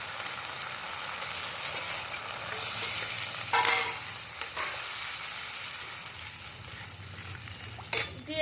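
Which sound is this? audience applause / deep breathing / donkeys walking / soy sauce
soy sauce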